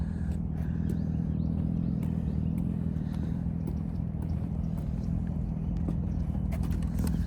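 A 2019 Yamaha R6 sport motorcycle with a full Akrapovic exhaust idles with a deep, steady rumble and a throaty exhaust note, constant and close, with light mechanical clatter on top.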